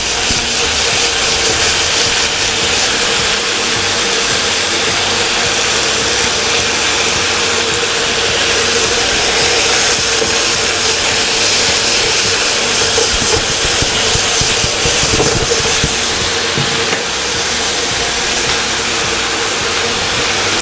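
Prawns keep sizzling loudly as they are spread around a hot pan, a constant, close, hissing roar with a few faint scrapes in it and nobody speaking.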